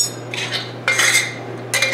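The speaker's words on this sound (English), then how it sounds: "I'm going to put in a regular measuring spoon, that's probably about 1 tablespoon of acai powder." A metal measuring spoon clinks against a bowl or container while about a tablespoon of acai powder goes into a raw chocolate shake, giving three short bright scraping-and-tapping bursts with quiet gaps between them.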